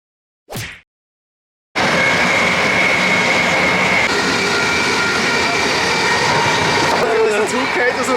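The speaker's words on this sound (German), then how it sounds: "Der Zug geht auseinander." A loud, steady train rumble roars and rattles close by for several seconds. It starts abruptly after a brief burst of noise and near-silence.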